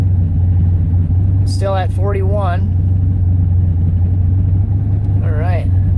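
Turbocharged Cadillac Escalade engine idling, a steady low rumble with a strong constant hum, heard from inside the vehicle while someone talks briefly over it.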